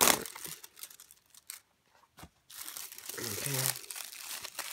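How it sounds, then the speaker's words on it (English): Plastic wrapping of a cheap rotary tool kit being cut apart and crinkled: loud rustling and crackling, a brief quiet gap, then more crinkling with a short spoken word. "Yeah, I cut the wrapper apart."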